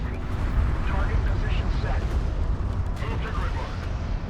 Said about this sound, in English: a big artillery bombardment